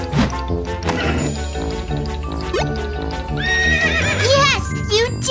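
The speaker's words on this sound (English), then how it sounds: "Horses neigh!" A horse whinnies with a wavering, high neigh over background music, with clip-clopping hooves and a bright jingle mixed in.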